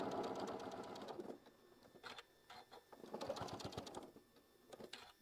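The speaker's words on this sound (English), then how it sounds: "I'm going to do a little back tack right here, and I'm going to go all the way across again." A quilting sewing machine runs in two short bursts of rapid stitching, back tacking across a seam on a quilt block, each run a dense mechanical whir with a pause between.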